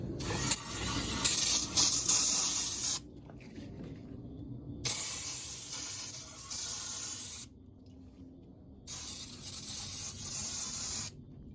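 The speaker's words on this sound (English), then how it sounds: "use some of this brake cleaner to clean the inside of the transmission pan" Brake cleaner sprayed from an aerosol can into a Nissan Altima CVT transmission pan, three loud hissing bursts separated by short pauses, close up with no talk.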